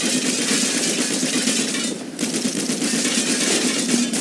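A .50 cal turret machine gun fires in a video game, roaring in loud, dense, rapid-fire bursts with a brief dip in the barrage partway through before the shooting resumes.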